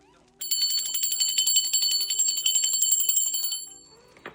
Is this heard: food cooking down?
no